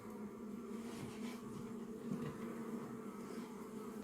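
Honey bees buzz at an open hive during an inspection of the drone frame, a dense continuous droning hum that is steady and low in level, with no voices.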